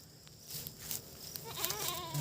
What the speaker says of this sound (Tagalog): Katulad po yan, mga kambing po yan.